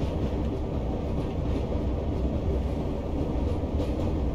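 A vintage 1938 stock electric train with bridge transition traction control runs along the line, giving a steady, loud, continuous low rumble and rolling wheel noise with no breaks.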